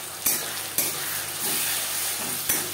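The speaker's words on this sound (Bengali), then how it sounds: "আর দিয়ে দেবো টমেটো, রসুন ও পেঁয়াজ, যেটা আমি একসাথে বেটে নিয়েছি।" A ground paste of tomato, garlic and onion frying in a pan gives a loud, dense hiss that runs without a break. A few sharp spatula knocks land on top, recorded close with no speech.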